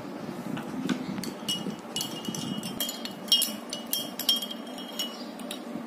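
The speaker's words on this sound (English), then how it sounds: "Yes, stir it well." A metal spoon stirs alum into water in a glass, producing a quick, irregular series of bright clinks and taps against the glass over several seconds, close and fairly loud.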